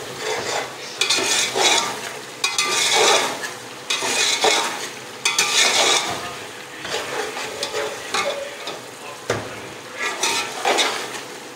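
A spoon scrapes and stirs through potato and beef pulao in a pot, with repeated loud scraping strokes and clinks against the metal over a soft sizzle, no voices.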